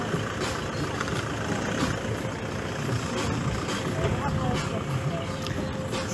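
A car or truck passing nearby with a steady engine rumble and background bustle. Low voices can be heard faintly underneath.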